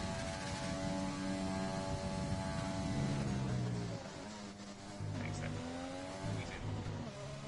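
A race car engine in a sim racing video game on an on-board lap, revving steadily with gear shifts and pitch drops, loud and close throughout, with commentators talking over it.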